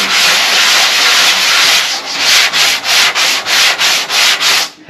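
Sanding on a rusty truck body panel of a 2002 Ford F350 gives a loud, harsh abrasive hiss, first continuous, then broken into quick rhythmic back-and-forth strokes, close up with no talking.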